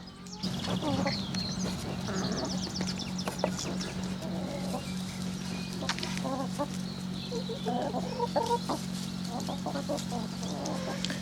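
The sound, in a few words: chickens clucking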